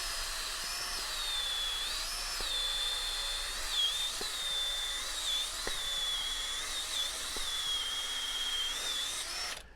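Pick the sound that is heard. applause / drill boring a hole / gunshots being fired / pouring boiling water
drill boring a hole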